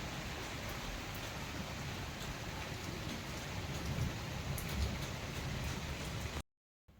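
Rain falls steadily as a soft, dense hiss with scattered drop taps. The sound runs evenly for several seconds and then cuts off abruptly.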